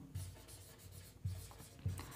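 Pen writing an answer option on paper during a Class 10 NCERT maths lesson: soft, close scratchy strokes in three short bursts with brief pauses between, quiet and without speech.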